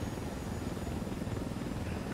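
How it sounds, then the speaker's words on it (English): Video game helicopter arriving, its rotor chopping in a rapid, steady flutter that is fairly faint and continuous over the short stretch. "Alright, so I just ordered a helicopter."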